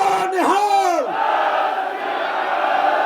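A crowd of demonstrators at a farmers' protest in Delhi shouts slogans in unison, with a strong lead voice calling and a loud group response rising and falling.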